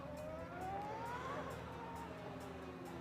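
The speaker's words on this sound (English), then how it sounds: "the sound of these wonderful Formula One machines once again here at Imola" Ferrari Formula One cars lap the Imola circuit during a Ferrari Finali Mondiali event, heard as a faint, distant engine note whose pitch climbs and then fades.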